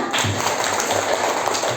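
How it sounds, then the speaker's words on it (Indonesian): Classroom applause from a group of students, a steady dense patter of many hands clapping at moderate volume for nearly two seconds with no talking. "Tepuk tangan untuk kita semua."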